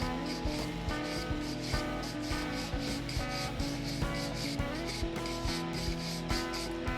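Wax is rubbed by hand over a Civil War artillery shell recovered from a creek, a close, steady back-and-forth scrubbing with regular rhythmic strokes.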